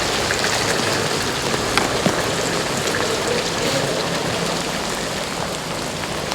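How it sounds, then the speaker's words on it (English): Heavy rain pours steadily during a December walk in Beeston, Nottinghamshire, a dense continuous hiss close around the listener with no break across the whole stretch. "Rain is falling"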